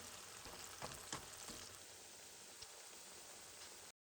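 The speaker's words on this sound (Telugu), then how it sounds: "ఇలా అన్నీ వేసుకొని మధ్యలో మధ్యలో కలుపుకుంటూ మాడిపోకుండా వేపుకోవాలి" Bitter gourd slices fry in oil in a kadai, giving a faint, steady hiss of sizzling with a few light crackles and pops before the sound abruptly cuts off.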